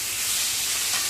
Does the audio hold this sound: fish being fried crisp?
yes